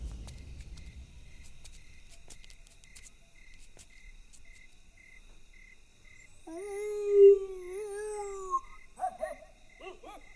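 After a long stretch of steady cricket chirping at night, a man imitates a dog barking as a code word, a few loud yelping and whimpering dog-like calls rising above the insects, followed by a couple of short bark bursts.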